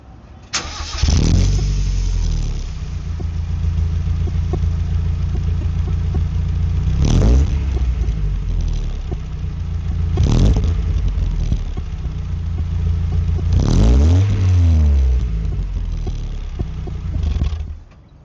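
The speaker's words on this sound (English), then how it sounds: "So a stock exhaust on the Miata is really not that bad." A stock NA Mazda Miata engine starts, then idles with a steady low drone through the stock exhaust, revved up briefly several times before settling back and finally cutting off.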